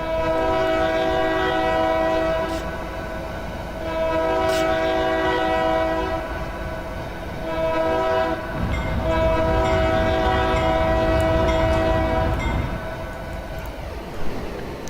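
In the Trainz game, a BN Alco C425 diesel locomotive sounds its horn in several long, multi-tone blasts. The blasts ride over a low, rumbling engine and rail noise, with a deeper surge of rumble partway through.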